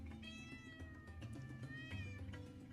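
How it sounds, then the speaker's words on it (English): A house cat meows in several drawn-out, wavering cries over a constant background murmur, faint and close to the microphone. "our cat has strong feelings"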